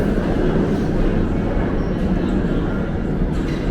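A PATH train, the old Hudson Tubes, rumbles along in a loud, dense, continuous roar of wheels and motors, steady throughout with no clear breaks.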